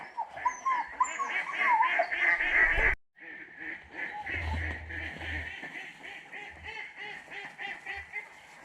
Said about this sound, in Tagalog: Ayan yung mga itik.